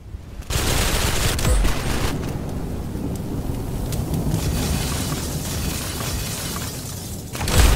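Gunfire in a video game, dense bursts of shots and booming blasts rolling on continuously at close range and loud, with a sharp spike at the very end.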